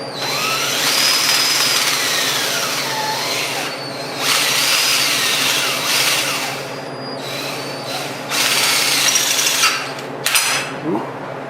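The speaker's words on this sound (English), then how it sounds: "Got to get it in just the right spot so you got clearance to drill it." A power drill bores into a part of an Althouse Wheeler or Pipe Raymond windmill, whining loudly in several bursts of a few seconds each, with rising and falling pitch, short pauses and a few knocks near the end.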